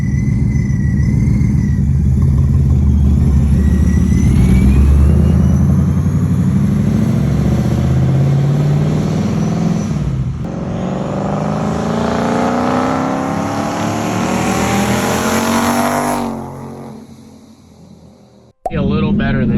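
A supercharged Ford Mustang GT with an ESS G3X supercharger revs hard on a dyno, a loud, close engine roar that climbs steadily through the gears, then winds down and cuts off near the end.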